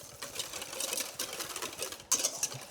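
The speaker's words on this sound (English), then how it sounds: "And let's give this a good whisk up." A Dijon mustard vinaigrette with tomato juice is whisked briskly in a bowl for a panzanella salad. The whisk makes a fast, continuous rattling patter close by, then one sharper clink near the end, with no talking.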